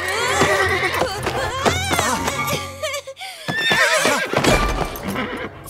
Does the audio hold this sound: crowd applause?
no